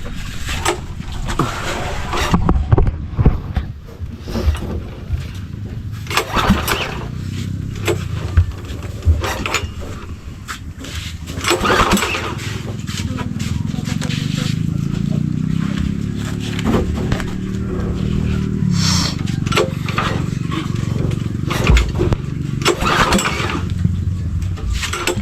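Boat engine on a fishing outing at sea, faulty and repeatedly dying, sputtering and catching unevenly before settling into a louder steady rumble, with water and wood knocks around it.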